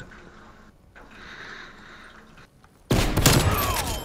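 A sniper rifle gunshot in the Call of Duty Cold War video game bursts in loudly after a few seconds of quiet game ambience and then decays into a sustained roar.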